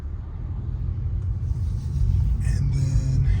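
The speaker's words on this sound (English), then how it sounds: "just driving noises with me talking in the background" Low steady car rumble from inside a moving vehicle during a roughly 25-minute drive, a constant road and engine drone that swells slightly toward the end, fairly quiet and without clear talk.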